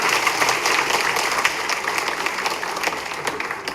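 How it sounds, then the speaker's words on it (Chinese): An audience applauds at a Tainan local news event, a dense steady wash of clapping from many hands throughout, fairly loud and without speech. "我们是不是带给大家自己一个掌声来"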